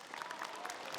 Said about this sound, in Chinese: 本来我准备给你们要掌声的